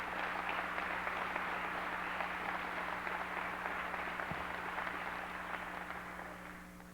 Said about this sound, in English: I think we owe them a round of applause for what they did as well.